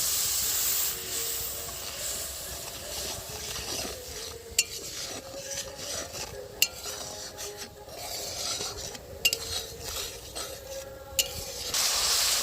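Ground spice paste for potol posto fries in oil and is stirred in a pan with a steady rasping, hissing scrape. Sharp utensil clicks punctuate it, and no one speaks.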